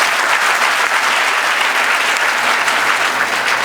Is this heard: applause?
yes